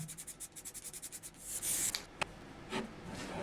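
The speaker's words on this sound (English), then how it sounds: "And I'll file down any high spots on the stator." A hand file rasps over the high spots on the steel stator of a homemade 1kW, 52V generator, first as a quick run of even strokes, then as a longer scrape with a few sharp taps.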